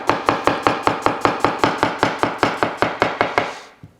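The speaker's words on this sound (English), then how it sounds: "I'm going to cut it on a bit of a bias. Cut it really fine." A sharp chef's knife chops finely on a cutting board in a fast, even rhythm of about fifteen crisp close strikes, slowing and fading out at the end.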